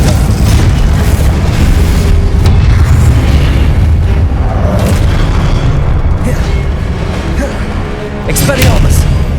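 Confringo spell explosions in the Hogwarts Legacy video game, loud booming blasts over dense continuous battle noise with no pauses.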